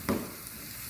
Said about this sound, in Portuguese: Eu vou só fritar agora aquela bolinha que eu quero que você veja também.